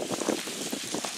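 Steady rain falls outdoors in gusty wind beside a Dollar Tree dumpster, a continuous hiss with wind buffeting the microphone and a few faint voices in the background.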